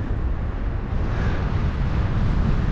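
Westerly wind buffets a paragliding pilot in flight, a steady, loud rumbling roar of wind across the microphone with no break for its full length.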